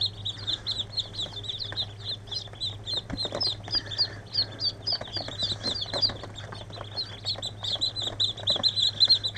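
Dense, high-pitched cheeping from a group of day-old ducklings in a barn, continuous rapid peeps close by over a steady low hum, with no talking.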